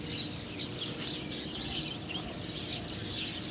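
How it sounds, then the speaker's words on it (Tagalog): A large flock of wild birds chirping and calling together outdoors, thin overlapping tweets spread across the stretch at moderate distance, fairly faint against a steady open-air background with no talking. "ang daming ibon o"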